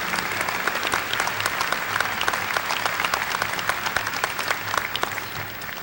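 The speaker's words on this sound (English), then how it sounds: "Could we please have one more round of applause for our wonderful speaker today" Steady, dense audience applause fills a commencement ceremony hall at Missouri Southern State University after the guest speaker, many hands clapping evenly and loudly throughout with no voices over it.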